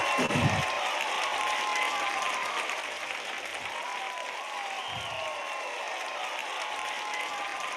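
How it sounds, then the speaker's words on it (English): Steady applause from a crowd fills the whole stretch, dense and continuous, with a few low thumps scattered underneath. "Let's make a big round of applause, everybody."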